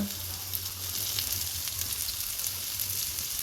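Cauliflower fries in a pan over a low-medium flame, giving a loud, dense, even sizzle that holds steady from start to finish, close up and without talk.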